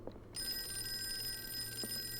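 An old telephone bell rings in the Call of Cthulhu video game, a steady loud ring that starts after a short pause and runs throughout over a faint background hum.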